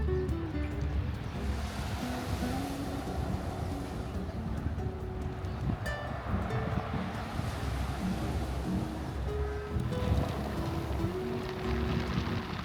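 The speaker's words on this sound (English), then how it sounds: "listened to the sound of the pebbles as the waves receded" Waves wash over and recede across a pebble beach at Opera Plage in Nice, a continuous rushing surf mixed with wind noise, swelling and easing in broad surges without any voices.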